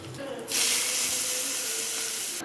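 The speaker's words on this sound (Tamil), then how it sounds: "இந்த சட்னிக்கு நம்ம ஒரு தாளிப்பு கொடுத்துக்கலாம்" Mustard seeds, urad dal and onion dropped into hot oil as a chutney tempering set off a loud, steady hiss that bursts in suddenly and holds for about two seconds before cutting off.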